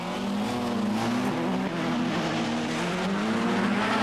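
Ford Fiesta rallycross cars race at Lydden Hill in the 1997 British Rallycross Championship, engines holding a loud, continuous high-revving drone that wavers in pitch as they power around the track.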